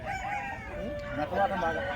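Rooster crowing at a rooster market, a single drawn-out crow fairly close, with faint chatter and market bustle around it.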